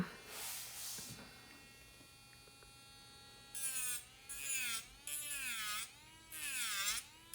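Electric nail drill buzzing in a nail salon during an acrylic application. A faint hum comes first, then a high whine in repeated bursts, its pitch sliding up and down as the drill speeds and slows.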